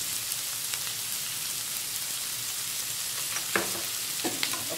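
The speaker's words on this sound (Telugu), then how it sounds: "ఉల్లిపాయలు బాగా వేగాలండి" Onions fry steadily in hot oil for a chicken fry, a dense, even crackling sizzle like light rain that holds throughout, with a few sharper pops and a brief stir near the end, close by.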